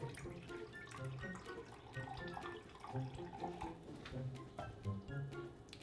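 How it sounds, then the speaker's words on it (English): Apple juice pours into a container as a quiet, steady trickle with small splashes and gurgles in a kitchen, with no talk over it. "Then we're going to take our apple juice. We're also going to add 4 ounces of that."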